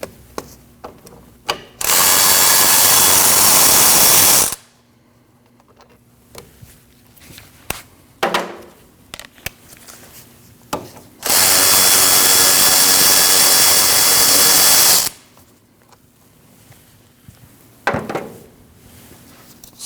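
A power tool runs out a pair of 14mm caliper bolts on the rear brake of a 2003-2008 Subaru Forester, two loud sustained bursts of a few seconds each, with quieter clanks and handling noises in between.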